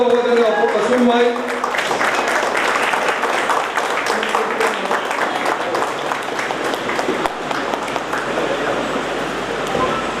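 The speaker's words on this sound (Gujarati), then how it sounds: "બધા ઉભા થઈને તાળી આપો" An audience at a stage event stands and gives a loud, sustained ovation, dense clapping that continues steadily for about ten seconds after a brief voice at the start.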